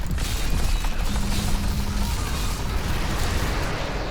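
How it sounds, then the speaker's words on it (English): Necromancer corpse explosions in the game Diablo 3: a dense, continuous wash of blasts and crunching impacts with no clear gaps, sustained for about four seconds. "A lot of explosions on corpses."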